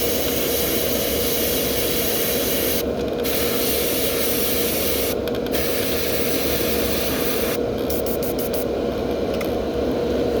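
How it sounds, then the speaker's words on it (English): An airbrush sprays paint onto a fishing lure in a steady, loud, continuous hiss, with a few brief pauses as the trigger is released. "when you're spraying the belly, you come up to the side to meet the sides"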